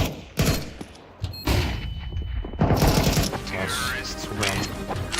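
Gunfire from a first-person shooter game, several loud sharp shots in separate bursts mixed with mechanical weapon clicks and handling sounds, close and punchy.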